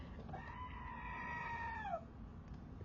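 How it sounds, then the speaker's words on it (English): A goat gives one long, wavering scream of about a second and a half, rising, holding and then dropping off, fairly close and clear over a steady low background hum, with no talking. "The goat had to scream."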